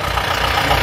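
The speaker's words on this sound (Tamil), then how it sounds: "அங்கே 2 வண்டி வருது" A vehicle engine runs with a steady low rumble on a mountain road, a brief continuous drone heard close and fairly loud.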